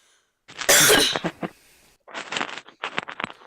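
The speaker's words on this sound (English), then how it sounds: "Not to mention I gotta edit out all my coughs and stuff." A loud, harsh cough burst followed by a few shorter coughs and throat-clearing sounds, close and alone with no talking.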